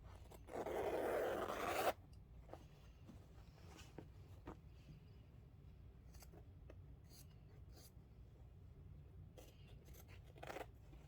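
Rotary cutter or scissors slicing through quilt fabric from the back side, a brief loud scraping cut near the start, then quiet handling noises and small taps.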